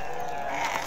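A sheep bleats at a busy Tuesday livestock market in Azrou, one short, close bleat over a background of crowd murmur.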